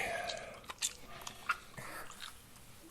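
Close, quiet chewing of microwaved ham from a Hungry Man frozen meal: soft, moist bites and smacks in an irregular rhythm, with a couple of sharper clicks over a low background.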